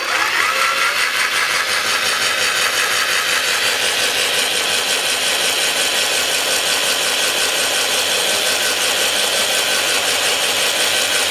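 A cordless drill/driver drills holes in terrarium glass, a loud continuous whine that holds steady throughout without pause, close and alone with no talk.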